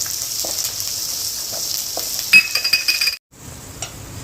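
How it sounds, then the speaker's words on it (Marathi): Carrots and curry leaves sizzle in a hot pan, a bright hiss with light clinks of a utensil against the metal, close and alone before the sound cuts briefly near the end. "नंतर गाजर टाकायचे गाजर इथं चांगले फ्राय करून घेऊयात"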